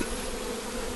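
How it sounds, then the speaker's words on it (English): Honey bees swarm with a dense, steady buzz as they are brushed off a package hive, a close, continuous hum throughout the brief moment. "I'll just get rid of some of the bees here"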